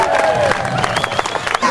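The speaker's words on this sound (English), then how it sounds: "Big cheer for them, ladies and gentlemen." A seaside crowd at a Lyme Regis fun event cheers and whoops loudly for finishing mermaid racers, with scattered claps and a voice briefly calling out over the noise.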